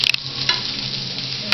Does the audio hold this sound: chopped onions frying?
yes